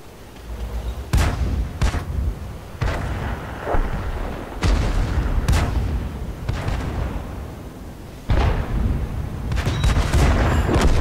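Repeated booming gunshots and blasts from a train-driving video game ring out loud and close, with rumbling, heavy low noise between bursts.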